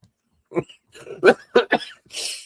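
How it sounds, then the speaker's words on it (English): A man with a cold coughs in a few short, rough bursts at close range, mixed with laughter, ending in a breathy exhale. "you're making me cough"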